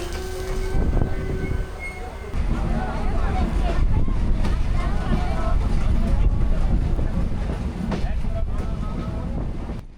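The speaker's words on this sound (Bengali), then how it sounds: "এখানেও যাত্রীদের ওঠানামা শেষে আবারও ট্রেন যাত্রা শুরু করলো" A passenger train pulls out of Mirpur railway station on the route to Rajshahi during heavy rain, a steady loud rumble and rattle of the cars with wind buffeting the microphone and faint voices in the background.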